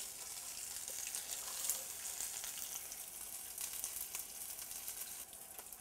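A rack of meat searing fat side down in a hot pan, giving a steady, close, crackling sizzle that holds at an even level throughout, with no talk.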